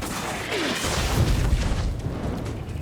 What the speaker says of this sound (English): A violent explosion creates a massive fireball that instantly engulfs all targets.